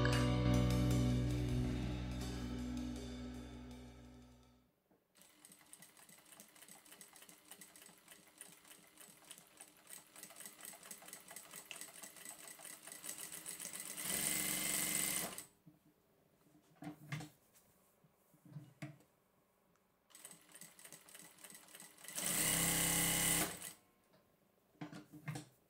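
Mauser Spezial ML8121-E01-BC industrial sewing machine running quietly, with a louder noise at the start, then several short stitching bursts and pauses, including two louder bursts.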